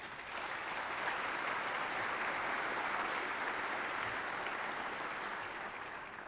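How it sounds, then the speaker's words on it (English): An audience at a State of Downtown address applauds steadily for about six seconds, a dense, even wash of clapping with no talk over it. "give yourselves a round of applause"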